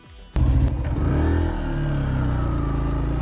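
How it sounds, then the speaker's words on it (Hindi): A Yamaha FZS motorcycle stuck in mud on an off-road track near Babia Lake in Kutch, its engine suddenly revving up hard, then holding a loud strained drone as the rider tries to pull free. "फंस गई थी बाइक मिट्टी पे।"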